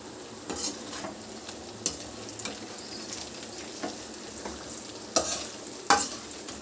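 Onions frying in a pan for a stuffed brinjal masala curry, a low constant sizzle with repeated close scrapes and clacks of a spoon stirring at an uneven pace, no talking.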